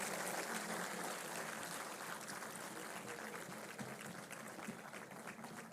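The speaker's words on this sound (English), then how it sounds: "Can I have a big round of applause?" A large audience claps steadily for a chief guest, a Union Minister, at a formal government ceremony in India, a dense, even wash of applause lasting throughout without pause.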